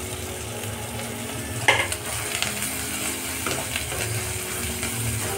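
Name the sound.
frying onion, tomato, salt and turmeric in a pan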